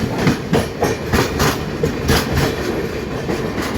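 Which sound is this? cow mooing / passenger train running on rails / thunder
passenger train running on rails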